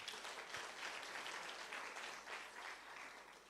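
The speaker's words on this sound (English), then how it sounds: "Please give him a round of applause." An audience at a university physiology workshop gives a round of applause, steady dense clapping that sounds faint and somewhat distant, lasting a few seconds with no talk over it.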